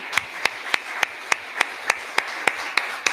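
A congregation at a church service claps in a steady, even rhythm, about eleven crisp claps spaced roughly a third of a second apart, with no other sound between them.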